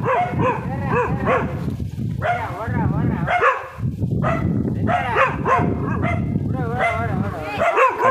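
A dog barks repeatedly in loud, close yips and bow-wows at visitors arriving at a thatched hillside house in a forest village, with people talking over and between the barks.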